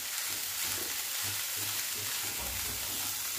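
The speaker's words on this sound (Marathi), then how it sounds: "पत्ता गोबी छान भाजून घेऊया," Chopped cabbage frying in a pan for fried momos, a steady broadband sizzle of moderate loudness running throughout, with faint low clatter from stirring and no talking.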